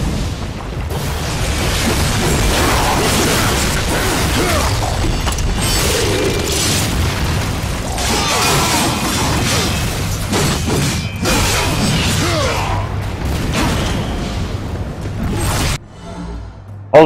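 Dense, loud game combat from Darksiders with angels firing at the player: continuous booms, whooshing projectiles and heavy impacts layered throughout, ending in a brief cut to near silence.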